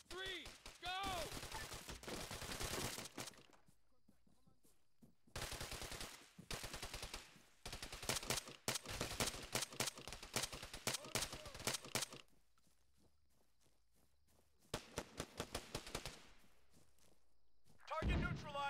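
Bursts of automatic gunfire from an Arma 3 firefight, loud rattling volleys separated by short pauses, with a speaking voice mixed in during some stretches.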